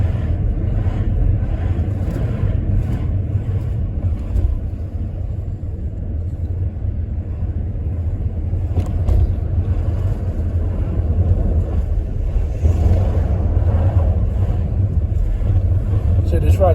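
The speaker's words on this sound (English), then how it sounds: "So listen for the gear shift." A car engine drones steadily from inside the cabin during a manual gear change, its low rumble easing briefly and then building again, while a person talks over it.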